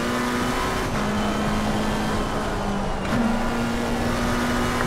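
Race car engine in Assetto Corsa Competizione holding a steady high drone with a brief pitch dip and recovery around a gear change, loud and continuous without talk.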